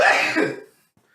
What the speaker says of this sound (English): I ended up sneezing. I did sneeze.